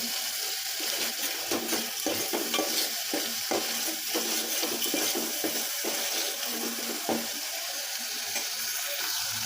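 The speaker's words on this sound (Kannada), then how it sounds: "ಹಾಗಾಗಿ ಒಂದು ಸ್ವಲ್ಪ ಎಣ್ಣೆಗೆ ಚಲೋ ಹುರ್ಕೋಬೇಕು ನೋಡಿರಿ" Tomato and onion frying in oil for a chicken dish, a constant sizzle broken by repeated scraping strokes of stirring in the pan, close and fairly loud.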